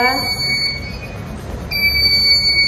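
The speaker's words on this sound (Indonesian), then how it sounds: "ada satu buzzer untuk sebagai penanda bahwa itu jauh, dekat, atau sangat dekat" A buzzer on an ESP32 proximity sensor project gives a loud, high electronic tone, steady at first, then it drops out briefly and returns, with a voice talking underneath.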